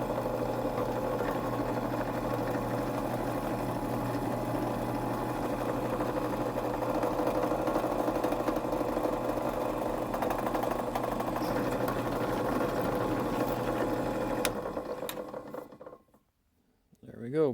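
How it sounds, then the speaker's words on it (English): Old drill press drilling holes in pocket knife steel, a loud continuous motor whine and grinding hum held steady for about fifteen seconds before winding down and stopping. "Try it over here to the old drill press."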